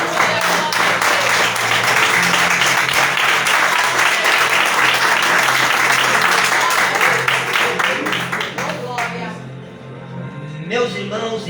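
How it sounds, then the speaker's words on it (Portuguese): A large church congregation applauds steadily for several seconds, dense rapid clapping that thins out and fades near the end, followed by a voice. "dê uma salva de palmas"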